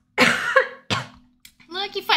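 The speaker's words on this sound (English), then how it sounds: "I'm laughing so much and it's like making me cough" A child coughs in a few harsh, breathy bursts brought on by laughing, with short gaps between them and laughter-like voicing at the end.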